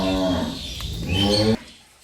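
A Holstein Friesian dairy cow lets out one loud, close moo at a livestock market, a sustained harmonic call lasting about a second and a half before cutting off sharply.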